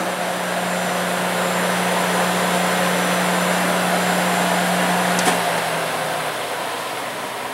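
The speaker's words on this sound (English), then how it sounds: "this is a Goulds 50 horsepower centrifugal pump brought to you by Lanco" A Goulds 50 horsepower centrifugal pump with 6-inch inlet and 4-inch outlet runs with a loud, steady whirring roar and a low hum, holding constant for several seconds before the tone begins winding down near the end.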